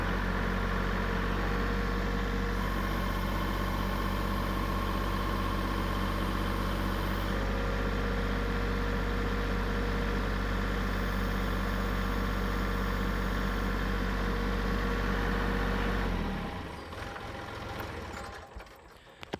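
A machine's engine runs steadily and loudly close by while lifting a tote of ash firewood, a constant droning rumble that briefly shifts in tone before dropping away near the end.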